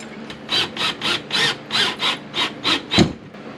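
A lag screw with a washer is driven into a wooden wall, making about nine evenly spaced rasping grinds, one per turn, close and moderately loud, with a duller thump at the end.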